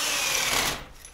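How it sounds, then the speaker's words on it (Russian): A plain drill bit boring a groove into a foam block during a home electrical wiring job, a steady high whirring grind that runs loud for most of the moment, then drops off and fades as the bit stops. "я попробовал это сделать простым сверлом"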